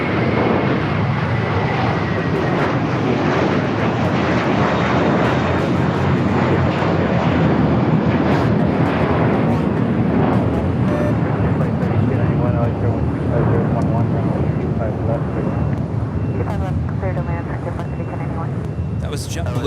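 A JetBlue Airbus A321 on its takeoff roll at LAX, a loud continuous jet engine roar with wind buffeting the microphone, while a voice talks over it.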